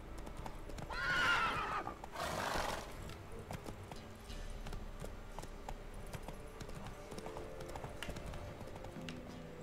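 Roach, the horse in the video game The Witcher 3, gallops with rhythmic clip-clop hoofbeats and lets out a loud whinny near the start, then hooves keep thudding at a steady pace with ambient game sounds.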